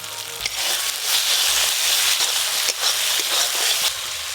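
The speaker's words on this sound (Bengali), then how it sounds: "এই দেখো মশলাটা কত সুন্দর কষানো হয়ে গেছে" A Bengali-style masala spice paste for katla fish kalia, made with yogurt and a little sugar, sizzles and fries loudly and steadily in a pan, with occasional stirring scrapes and no talk.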